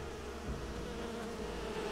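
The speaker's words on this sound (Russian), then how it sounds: "Пчелы." Bees buzzing in the Enderal video game, a steady low insect drone holding through the whole moment without any speech.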